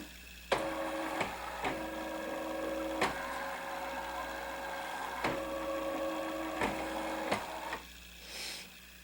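Embroidery unit of a Designer 1 sewing machine running its calibration, a steady motorized whir punctuated by several sharp clicks and knocks as the arm moves to its stops, ending with a short softer whir.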